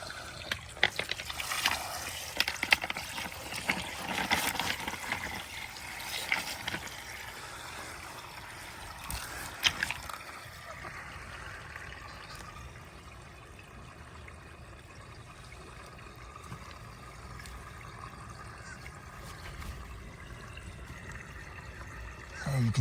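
Water trickling and leaking through drain pipe fabric and limestone sediment, a steady close splashing stream that eases to a softer dribble partway through, with a voice speaking over it.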